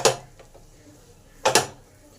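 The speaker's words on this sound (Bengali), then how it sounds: "গরম মশলাটাকেও ভালো করে ইঁচড়ের মধ্যে মিশিয়ে নিলাম" A utensil scrapes and knocks against a pan while garam masala is stirred into cooking jackfruit, with two distinct clanking strokes separated by a quiet pause.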